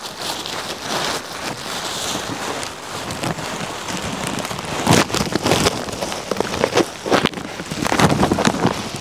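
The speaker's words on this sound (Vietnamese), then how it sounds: "Hôm nay mưa thì mưa từ hôm qua đến giờ rồi cô bác ạ, chưa tạnh một chút nào." Steady rain pours down on a rural construction site during a prolonged storm, a dense continuous hiss with heavier gusts and patters swelling near the middle and end, no voices.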